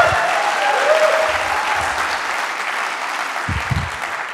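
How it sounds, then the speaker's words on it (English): Enthusiastic audience applause at a startup demo day pitch event, a dense sustained wash of clapping that stays loud throughout and tapers slightly toward the end, with a few low thumps near the close. "I need more applause here because I'm kind of nervous."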